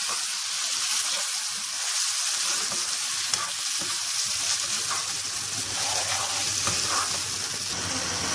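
Tomato gravy with a little added water simmering and sizzling in a pan for chicken chukka, a steady bubbling hiss with occasional stirring, close and without talk.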